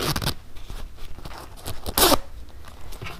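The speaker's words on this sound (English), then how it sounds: "Now I want to go ahead and reattach that zipper so that it functions properly." A zipper on a waxed canvas laptop sleeve is handled during sewing, giving short scratchy zipping rasps and fabric rustles, with one louder burst near the middle, heard close up.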